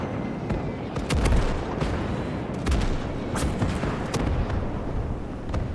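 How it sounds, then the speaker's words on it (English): Artillery barrage in a Desert Storm tank warfare game mod: a dense, continuous rumble of booming impacts with sharper blasts scattered throughout, loud and sustained with no speech. "we got artillery inbound."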